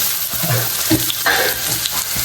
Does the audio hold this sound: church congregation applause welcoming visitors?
no